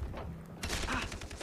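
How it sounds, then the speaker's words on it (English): Burst of gunfire in the Far Cry 3 video game, a quiet lull then a sudden dense volley of rapid shots, moderately distant. "stop shooting me"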